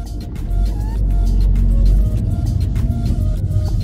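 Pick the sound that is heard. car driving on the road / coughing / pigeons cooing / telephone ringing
car driving on the road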